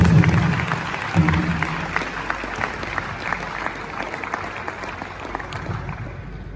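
A conference audience at the ESUT Annual International Conference on the Agbani campus in Enugu State applauds, producing a dense, steady round of clapping that carries through the whole stretch and tapers slightly toward the end.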